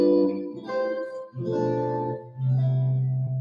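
Guitar plays seventh chords voiced with the root, fifth, seventh and third, three sustained chords ringing out one after another, close and clear with no talk.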